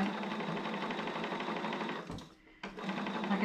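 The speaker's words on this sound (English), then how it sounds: "sewing machines sound like they all need oil on the screen" A sewing machine runs at a fast steady stitching rhythm while piecing quarter-square triangles, stopping briefly for a moment before starting up again, close and fairly loud with no talking.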